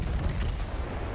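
Deep rumbling battleship gun salvos from the World of Warships naval combat game, a dense continuous low boom filling the moment without any voice.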